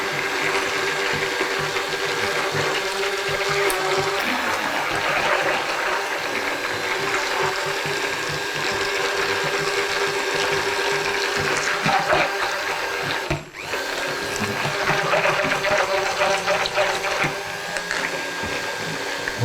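A kitchen mixer runs continuously while blending kirsch mousseline cream, a loud, steady mechanical whir with a rattling, gear-like texture and one brief dip near the end.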